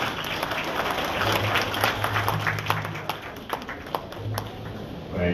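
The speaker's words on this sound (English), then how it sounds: "Another big round of applause for the President" Outdoor audience at the Kafue Flyover Bridge commissioning in Zambia applauding President Edgar Lungu, a broad, continuous crowd clapping with a low hum beneath and a voice briefly rising near the end.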